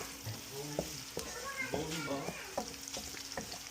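Garlic fries golden brown in a pan, a soft, steady sizzle under a person talking, with occasional clinks of a stirring utensil.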